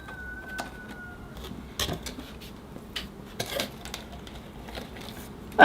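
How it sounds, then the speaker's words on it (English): Metal drainage screens are set into a ceramic bonsai pot while a mulberry tree is root pruned, giving a few light clinks and taps against the pot with quiet gaps between them and a slightly louder knock at the end. "I'll get my drainage screens back in the pot, cover up those big holes in the bottom."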